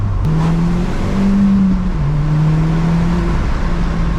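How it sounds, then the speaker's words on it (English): A used Audi S3 drives along, its engine holding a steady, fairly loud drone that rises and dips slightly with a shift in pitch midway. There is no talking over it. "It's just lots of like boost sounds and whooshing."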